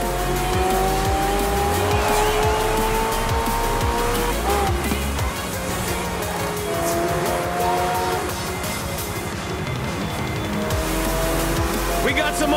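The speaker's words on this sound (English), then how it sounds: "We got some awesome racing trucks out there, too." Racing cars and trucks in Forza Horizon 4 roar past with loud engines, whining gear shifts and repeated tire squeals, a dense, continuous racing din throughout.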